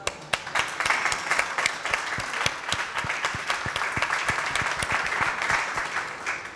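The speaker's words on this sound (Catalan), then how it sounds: "un aplaudiment." Steady audience applause fills the room at a public transport colloquium in Catalonia, dense continuous clapping from a sizable crowd with no voices over it.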